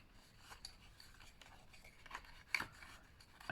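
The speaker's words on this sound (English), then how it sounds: "in which case you can cut them off." Scissors snip through the tabs of a papercraft paper box, with a few quiet, close cuts and rustles, the loudest snip coming near the end.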